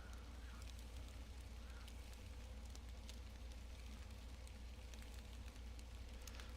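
Steady rain falls in the Fishing Planet video game, a dense continuous patter with scattered droplet ticks that holds at an even level throughout, with a low rumble underneath and no talking.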